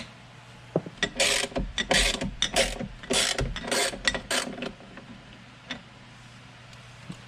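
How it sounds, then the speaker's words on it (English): A T25 driver unscrews small bolts while a mid-chassis harness bar brace is being installed; rapid ratcheting clicks come close in several bursts, then fade to quiet handling sounds. "Now we need the T25. There's gonna be these little bolts right in here."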